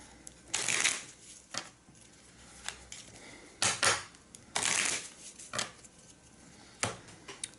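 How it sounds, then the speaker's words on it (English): Cards being shuffled during a tabletop solo game of Aventuria, heard as several crisp riffling bursts of varying length spaced across the clip, close and fairly quiet with no voices. "And I will shuffle those 3 back in."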